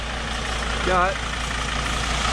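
The engine of a Mercedes T1N Sprinter van runs steadily under an open hood after reassembly, a constant close mechanical drone that persists throughout, with a brief spoken word over it.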